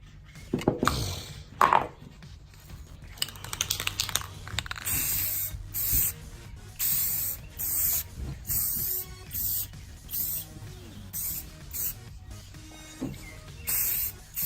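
An aerosol can sprays a coat onto a car headlight in repeated hissing bursts, each lasting about a second with short pauses between, close and fairly loud after some initial handling noises.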